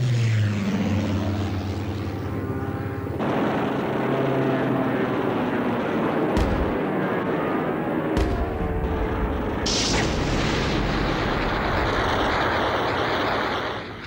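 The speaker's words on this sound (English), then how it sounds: "They were short-range aircraft, able to dive, turn, and reach great speed." A German Focke-Wulf 190 fighter aircraft flies past with a continuous propeller-engine drone that shifts in pitch and swells at moments, loud and sustained throughout, with a few sharp bangs mixed in.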